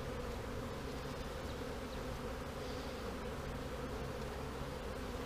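Honeybees swarm around an opened hive during a beekeeping inspection, a steady dense buzz and hum filling the whole stretch without a break and with no talking.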